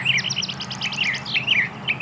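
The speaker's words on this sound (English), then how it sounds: "Well, here we've got a nice little Lark Sparrow." Lark Sparrow singing in the early morning, a rapid series of sweet chips and trills followed by buzzy warbled phrases, clear and fairly close over a quiet background.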